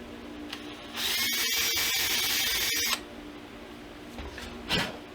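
A small drill bores a side dot hole into a guitar fretboard, a steady high whine for about two seconds that is close and moderately loud, followed by quieter handling noises and a brief knock.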